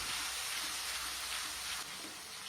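Tuna rica fries in hot oil in a home kitchen, giving a soft, continuous sizzling hiss that eases slightly near the end, faint and without talk.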